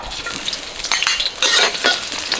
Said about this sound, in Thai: จะผัดกระเทียมให้หอมนะครับ